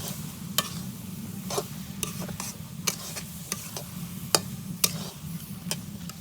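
A pan of homemade Bengali pickle is stirred steadily, with a low continuous sizzle and scraping under scattered sharp clinks of the spoon against the pan. No one speaks.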